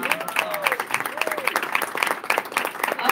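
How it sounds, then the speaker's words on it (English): Audience applause for student essay and poster contest winners at a Martin Luther King Jr. celebration in St. Paul Cathedral: dense, steady clapping from a crowd that fills the whole stretch, with some cheering voices mixed in. "Let's give them all another round of applause"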